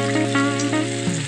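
Maruya, banana fritters, fry in hot oil with a loud steady sizzle and bubbling, close up and uninterrupted by talk.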